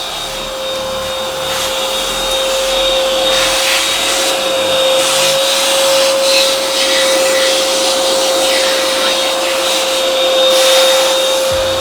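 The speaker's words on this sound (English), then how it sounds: "what we're doing is vacuuming the bottom of the tank to make sure it's clean" A vacuum cleaning the bottom of a large planted aquarium tank, giving a loud, steady whirring drone with a constant motor whine that runs without a break and with no talk.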